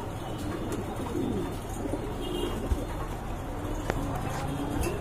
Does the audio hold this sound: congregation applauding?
no